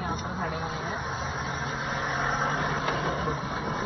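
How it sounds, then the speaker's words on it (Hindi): A long line of parked oil tanker trucks idles on a roadside at a valley campsite, a steady low engine rumble running throughout beneath someone speaking. "सारे के सारे ऑयल वाले ट्रक यहाँ पर खड़े हुए हैं।"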